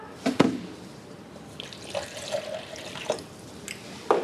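Water from a tap being measured out for a cyanotype solution, with a few splashes and trickles into a container, fairly quiet and intermittent with small clinks, no talking.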